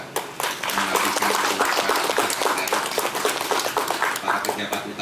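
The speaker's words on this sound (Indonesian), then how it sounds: "Tepuk tangan untuk beliau" A ceremony audience at a farewell for a land office head in Garut bursts into brisk, full applause that holds loud and steady, with a few claps standing out close by and some voices mixed in.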